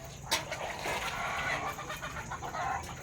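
Chickens cluck softly at a distance near a small chicken coop in a village, over steady background noise, a few brief calls rising now and then.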